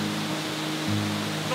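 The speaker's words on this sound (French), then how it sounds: "je remonte les cascades de Siaslin" Cascading mountain waterfalls in the Italian Dolomites produce a steady, broadband rush of falling water, with an even, continuous wash and no voices.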